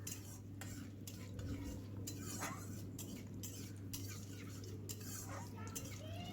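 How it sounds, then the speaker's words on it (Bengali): A whole cumin and asafoetida tempering stirred with a spatula in a pan, with soft sizzling and light scraping and clinking strokes over a steady low hum, fairly quiet and close. "দিয়ে এবার ভালো করে এটাকে খুন্তি দিয়ে একটুখানি নেড়ে নিতে হবে।"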